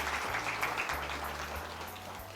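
A church congregation claps together in thanks to the Lord, a steady dense wash of clapping that stays even and sustained throughout over a low hum.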